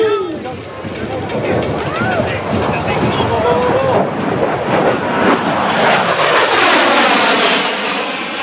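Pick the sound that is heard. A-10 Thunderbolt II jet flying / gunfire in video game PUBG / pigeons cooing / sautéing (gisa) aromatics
A-10 Thunderbolt II jet flying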